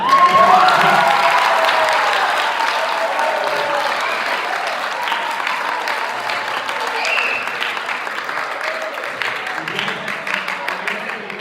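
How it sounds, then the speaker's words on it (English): School assembly audience at Midland Valley High School applauding a guest speaker, a sustained wash of clapping that holds steady throughout, with faint voices mixed in. "Mustang, let's give them applause."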